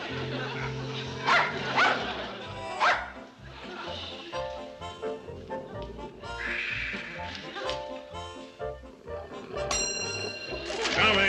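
A dog barks and yips several times in a sitcom scene, close and fairly loud, mixed with people talking and background music.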